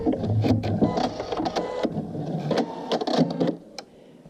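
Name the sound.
sewing machine back stitching on vinyl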